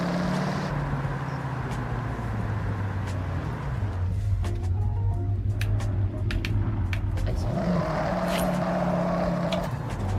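Car engine in a driving video game, a steady low hum that shifts pitch a couple of times as the car cruises, mostly under a person's talk.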